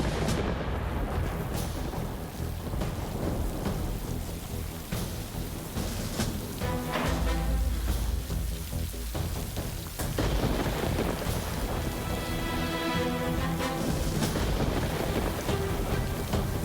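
Thunder booms and rumbles through heavy rain outside the Big Brother house, with loud rolling cracks rising over a continuous downpour.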